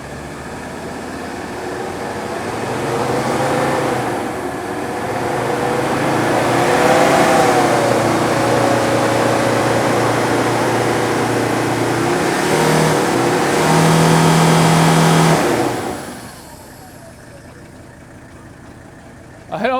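A Mercedes W126 300SD diesel with a black-smoke fuel problem pulls hard along the road, its engine note rising and holding for several seconds before dropping away to quieter road noise.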